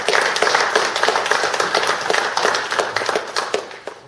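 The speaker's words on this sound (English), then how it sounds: "So give these guys a great big round of applause." A modest audience at a club's general meeting gives a steady round of hand clapping, moderately loud and fairly even, tapering slightly toward the end.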